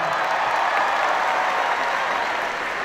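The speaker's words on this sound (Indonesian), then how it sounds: "Tepuk tangan semuanya." A hall full of university students gives sustained, dense applause, even and fairly loud throughout with no break.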